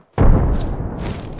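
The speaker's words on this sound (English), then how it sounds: "Throwing frag." A frag grenade explodes in the video game Apex Legends, a single loud, close boom with a heavy low-end thump that rumbles and fades over about a second.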